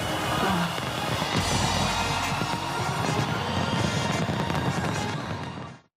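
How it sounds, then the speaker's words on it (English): New Year fireworks launched around the Sydney Harbour Bridge in Australia: a dense, continuous barrage of booms and crackling bursts, loud and sustained, fading away at the end. "Fireworks were launched from around the Sydney Harbour Bridge in Australia following the countdown to the new year."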